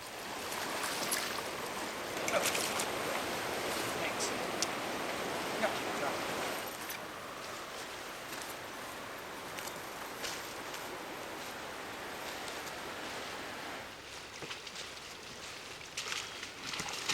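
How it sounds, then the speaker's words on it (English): Steady rain hisses in a continuous wash, with denser patches and some brief rustling on top; no talking, just the constant patter throughout. "The rains move in"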